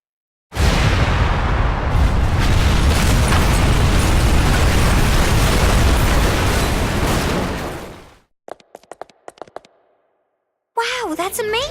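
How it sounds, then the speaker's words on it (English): A long, loud chain explosion from Danganronpa Another Episode roars as a dense, continuous blast lasting several seconds before cutting off, followed by brief scattered pops and then a burst of game voices. "Maybe you have to start a chain explosion by controlling something?"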